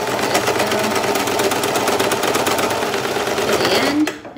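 A sewing machine runs steadily and loudly up close, stitching and backstitching fabric for a handmade mask with ties, its rapid needle rhythm continuous until it stops abruptly at the end.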